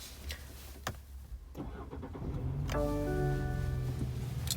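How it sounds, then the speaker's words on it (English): A 2018 BMW 3 Series 330i xDrive engine cranks and turns over, then catches and settles into a steady idle after a few clicks and a brief quiet moment. "Now, let's turn this car on."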